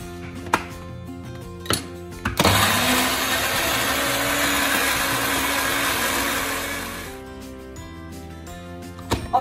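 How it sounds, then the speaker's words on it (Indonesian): An electric blender grinds shallots, belacan and chili padi for a home-style laksa, a loud steady whirring roar that starts abruptly, runs for about four seconds and then eases off, with quieter kitchen clatter before and after. "bawang, belacan dan juga sedikit cili padi yang telah pun kita kisar tadi"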